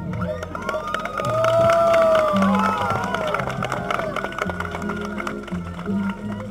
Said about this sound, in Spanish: Yo quiero que para ello les demos un fuerte aplauso.